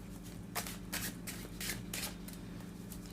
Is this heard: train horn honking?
no